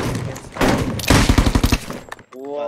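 A quick string of loud video game gunshots in a rooftop parkour shooter round, a rhythmic rapid-fire burst of about ten shots, followed by a brief gap and a short tonal game sound.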